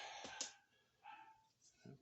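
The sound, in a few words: dog barking in the background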